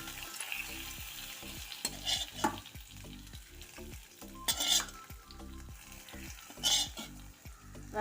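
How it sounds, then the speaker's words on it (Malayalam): Hot mustard seeds and shallots tempering sizzles as it is poured into fish curry, with a spoon stirring and scraping in a rhythmic pattern and brief bursts of hissing. "കടുക് വറുത്ത് അതിലേക്ക് ഒഴിക്കുന്നു"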